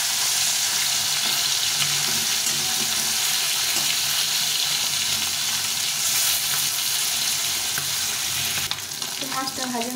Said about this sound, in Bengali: মাছটাকে একটু ভালো করে কড়া করে ভেজে নেব।